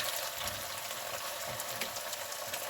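Red potatoes, onions and mild sausage fry slowly in a pan, giving a soft, steady sizzle that stays even and fairly quiet with no talking.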